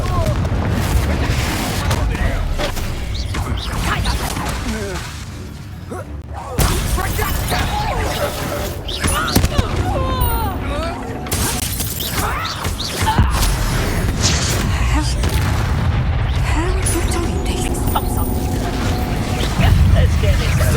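Repeated booming fire-spell explosions from Confringo casts in the video game Hogwarts Legacy, heavy and continuous over a dense game soundscape with a brief lull midway, and a voice speaking intermittently.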